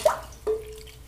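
Water drips and splashes briefly as a 1939-1941 Gillette safety razor is rinsed off after a shave, two short wet plops close by with no talk.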